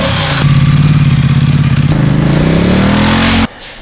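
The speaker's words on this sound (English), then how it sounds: "this bike sounds absolutely, it's awesome in stock form" A motorcycle engine revs loudly up close, holding a throbbing idle, climbing in pitch, then cutting off abruptly near the end.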